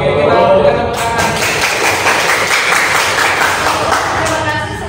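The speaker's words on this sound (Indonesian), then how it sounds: "kita berikan tepuk tangan" A classroom of students applauds after a group presentation, a dense, loud burst of clapping that carries on steadily for several seconds.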